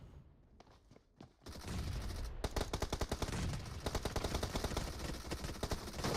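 Sustained automatic gunfire in a competitive video game match, rapid evenly spaced shots ringing out continuously after a few scattered bursts, loud and dense with no talk over it.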